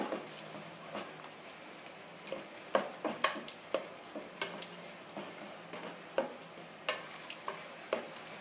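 A spoon stirring paruppu sambar mixture with dal in a pot, soft scraping and light taps in an irregular rhythm, close but quiet, with a faint sizzle beneath.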